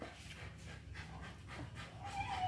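A corgi panting quickly and steadily at close range, soft rapid breaths continuing throughout with no one talking.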